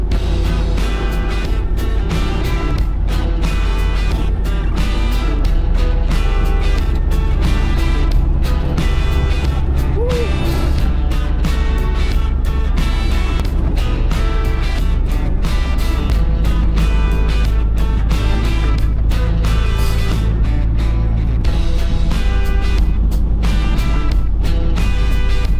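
Toyota Land Cruiser driving on a highway road, a steady loud engine and road drone lasting throughout with constant low rumble and tire noise, no talk.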